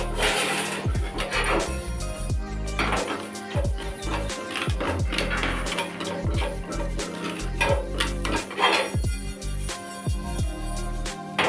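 Rice dry roasting in a pan for poppy seed payasam, with repeated scraping and stirring strokes, light crackles and clinks of a spoon against the pan, up close and fairly loud throughout.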